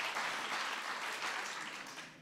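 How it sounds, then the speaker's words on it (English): An audience at a White House evening of poetry, music and spoken word breaks into dense, steady applause that stays loud and continuous throughout, with no voices standing out. "So you just want to clap, just stand."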